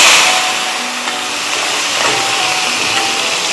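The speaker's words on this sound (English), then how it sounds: "We'll be adding this sliced onion to it." Sliced onion dropped into smoking hot oil in a pan, a loud bright hiss and sizzle that bursts up at once, then settles into steady crackling frying.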